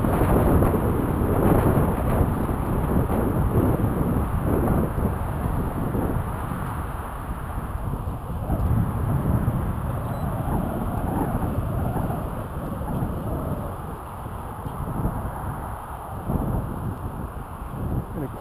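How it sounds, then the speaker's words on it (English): Strong wind buffets the microphone outdoors over a field during an FPV drone flight, a constant loud low rumble and roar with gusty swells throughout. "It's strong wind."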